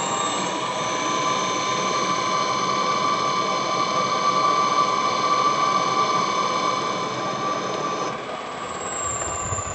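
An electric motor running at its third speed setting gives off a loud, steady whine with clear sustained tones, which shifts and eases slightly near the end.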